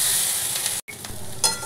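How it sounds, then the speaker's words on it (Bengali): Boiled potatoes fry dry in a pan for a potato curry, giving a close hissing sizzle that cuts out briefly partway through, then resumes. "দিয়ে এটা শুকনো শুকনো ভাজা ভাজা আমি তরকারিটা করব।"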